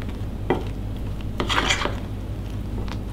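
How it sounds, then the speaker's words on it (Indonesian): Tapioca and wheat flour batter stirred in a bowl, soft scraping and a few knocks of the utensil against the bowl, close and fairly quiet with a low hum behind and no talking. "Kita aduk sampai semuanya tercampur."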